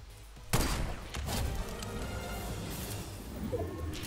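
Fortnite gunfire: a sharp gunshot bursts out, followed by a sustained rattle of gunfire and muffled thuds over a constant low rumble, with more shots trailing off.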